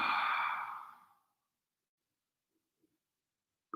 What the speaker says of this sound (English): Exhale all the way with calm.